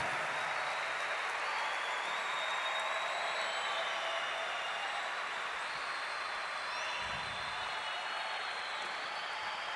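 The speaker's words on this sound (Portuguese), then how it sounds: "E dê uma salva de palmas para nosso Senhor" A congregation at a Catholic sermon gives a sustained round of applause, a continuous wash of clapping that stays loud and even from start to finish.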